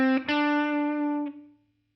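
Electric guitar with distortion and effects picks a quick note and then holds a second one that rings out before fading, part of a five-note shape 1 scale pattern.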